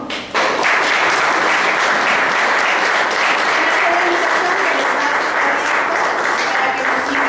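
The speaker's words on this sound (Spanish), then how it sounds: "Pues un aplauso, por favor." An audience at a talk in Mexico City breaks into sustained applause, dense and loud throughout after a short start, with some voices underneath.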